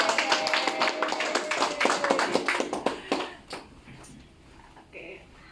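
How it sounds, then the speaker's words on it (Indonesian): A small gathered audience claps hands in a brief, uneven burst of close claps that thins out after about three seconds, followed by a few scattered taps and quiet room noise. "Kita berikan tepuk tangan."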